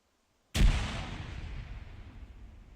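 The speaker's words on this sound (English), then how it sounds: "Grenade out west." A thrown grenade explodes on a qualification range, one sharp loud blast out of silence followed by a long rumbling decay.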